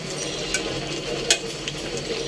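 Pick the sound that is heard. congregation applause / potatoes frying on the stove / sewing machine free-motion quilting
potatoes frying on the stove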